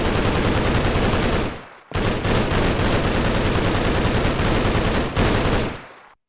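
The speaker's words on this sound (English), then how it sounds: "And this one, a minigun, the Earth's Corpse. Fire damage, and look at that fire rate!" Minigun fired in rapid, unbroken bursts in a Minecraft RPG modpack, a loud machine-gun roar that runs about a second and a half, stops briefly, then resumes for several more seconds before cutting off.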